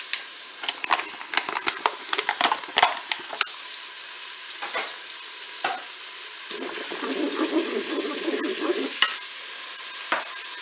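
Bacon lardons and onions sizzle and crackle in butter in the pot of a Cookeo multicooker, with scattered sharp clicks and scrapes of stirring over a steady frying hiss.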